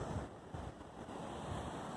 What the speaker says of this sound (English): So this is the Atlantic Ocean.